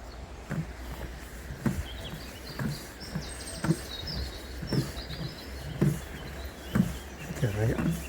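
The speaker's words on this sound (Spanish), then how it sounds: "cómo cantan los pájaros" Birds sing faintly along a river in the countryside near Mansilla de las Mulas, their thin chirps scattered behind a steady, regular rhythm of nearby footfalls and a low outdoor hum.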